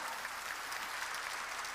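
Korean church congregation clapping in unison during a sermon, a dense, steady wash of applause that holds evenly at moderate volume with no voices on top.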